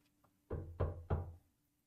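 Three heavy knocks on a door sound in a horror game set on a hospital night watch. They come in a slow, evenly spaced row over a quiet background, close and muffled.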